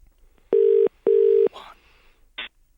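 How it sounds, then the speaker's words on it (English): A telephone call placed from a handset rings out with two long, steady ringback tones in a row, followed by a faint rustle and a short electronic beep, with no one talking. "Now, I'm going to hit dial."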